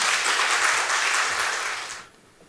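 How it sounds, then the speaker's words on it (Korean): A church congregation claps warmly to welcome a visiting retired professor-pastor, a dense burst of applause that holds briefly and then fades away. "여러분들이 박수로 우리 목사님을 환영해 주시면 좋겠습니다"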